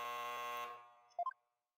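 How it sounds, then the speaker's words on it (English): A harsh, sustained buzzer from the video game Ace Attorney blares for about three-quarters of a second, then cuts off, followed by a quick trio of short rising electronic beeps before silence. "Another buzzer."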